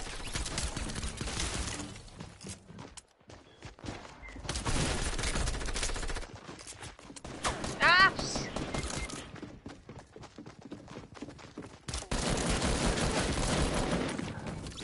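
Rapid gunfire from the Fortnite video game, with dense automatic bursts and single shots rattling almost nonstop at close range, loud and alone without talk.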